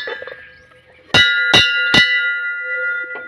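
Temple bells at a Shiva shrine on the Narmada parikrama route in Gujarat ring out three times in quick succession, loud and close, each strike leaving a long shimmering metallic ring that fades slowly, with a softer fourth tap near the end.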